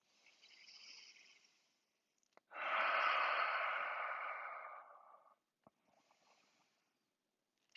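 Yoga practice breathing: a faint, airy breath, then a long, steady exhale that swells and slowly fades, followed by a few soft, quiet breaths.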